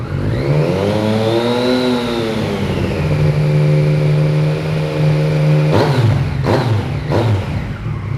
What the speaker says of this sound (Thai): นี่ครับขึ้นเร็วลงเร็วนะครับ